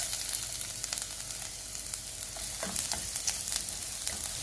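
Garlic frying in hot oil in a pan, a steady dense sizzle with small crackles and pops throughout, close and fairly loud with no voices.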